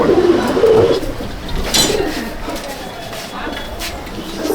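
Pigeons cooing in a loft at Chandannagar, soft low coos near the start, a bird's call rising briefly, with someone talking throughout over the birds.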